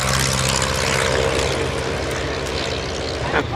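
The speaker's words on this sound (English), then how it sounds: "Now taking off the de Havilland Chipmunk" A de Havilland Chipmunk propeller plane takes off at an airshow, its engine a loud, steady drone that holds throughout with a faint murmur of voices underneath.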